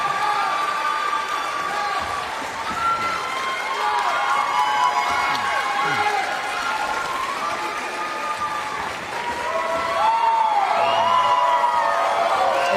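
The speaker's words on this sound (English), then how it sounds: "And again, can we get just another round of applause?" A concert audience at a symphony performance breaks into sustained applause mixed with cheers and whoops, a dense crowd roar that swells near the end and carries on without pause.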